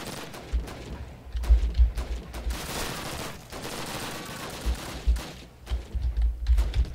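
Bursts of gunfire from the first Call of Duty campaign, a World War II shooter, come in repeated volleys and rattling fusillades with short gaps between them, loud and close, and no talk over them.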